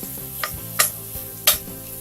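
Thai red curry being stirred and spread around a hot pan, with a steady sizzle throughout and three sharp scraping strokes of the utensil against the pan, close up and with no talking.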